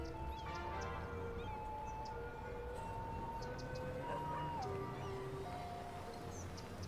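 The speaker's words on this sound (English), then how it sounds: "the ambulance was passing by" A wailing ambulance siren passes through a city-building video game, its rising and falling tones sweeping and shifting pitch as it goes by, steady and moderately loud over a dense ambient city bed, with no talking.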